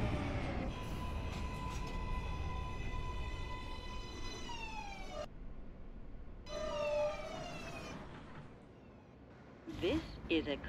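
An NYC subway N train runs in the OpenBVE simulator, with a rising and falling electric motor whine and rumbling rail noise, and a brief quiet gap between stretches. A spoken announcement plays over the train.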